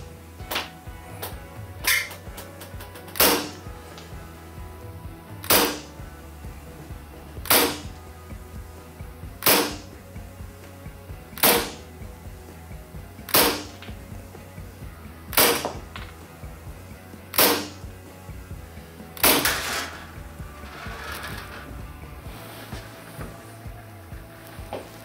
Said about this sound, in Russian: Давайте сразу перейдем уже к тесту на охроне, потому что, как видим, картон пистолет дырявит, если шар все-таки вылетает.